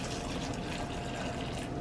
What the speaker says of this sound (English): I'm gonna add some white vinegar.